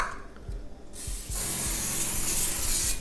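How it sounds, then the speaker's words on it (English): Cooking spray sprayed onto a baking sheet for store-bought fast-food-style fries: a few light knocks, then a loud, close, steady aerosol hiss lasting about two seconds before cutting off, with no talk. "Let's spray this out too."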